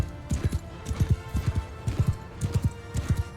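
Hooves pound in a rapid, regular clip-clop as a horse gallops in Mount & Blade II Bannerlord, close and fairly loud, with paired beats repeating through the whole stretch.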